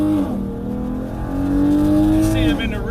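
A Ford Mustang follows close behind a Dodge Challenger Mopar car, its engine note a steady loud drone that rises slightly midway, with someone talking over the motor throughout.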